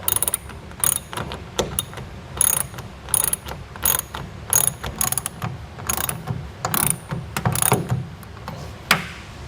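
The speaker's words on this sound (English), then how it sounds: "I'll come back with my ratchet and keep tightening down" Ratchet wrench tightening a bracket of a TruXedo TruXport soft roll-up tonneau cover on a 2022 Ram 2500 pickup, heard as repeated close bursts of rapid clicking strokes with brief pauses between them.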